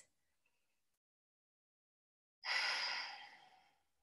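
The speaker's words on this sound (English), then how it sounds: "Breathe in and breathe out." A single deep, breathy exhale during a power yoga session, loud and close, swelling suddenly then fading slowly over about a second and a half after a long silence.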